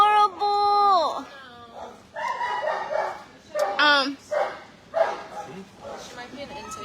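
A puppy at an animal shelter barks and yips in quick bursts, close and loud, with whimpering notes between them and a mix of other sounds around.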